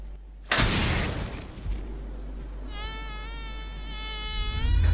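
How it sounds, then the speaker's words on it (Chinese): A housefly buzzes close by in a room, a steady whining drone that rises in pitch and wavers after a sudden loud thump at the start, continuing alone without talk. "突然一只苍蝇落到了手上。"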